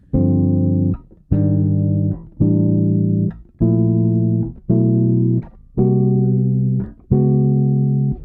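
A bass guitar plays a series of sustained, evenly spaced minor 11 and major 7 sharp 11 chord arpeggios, each ringing out before the next, clean and close with no talking.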